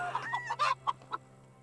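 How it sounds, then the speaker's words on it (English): Chickens clucking in the medieval survival game Medieval Dynasty, a string of short, close clucks and squawks in uneven bursts over a steady low hum, with no talk. "Chickens."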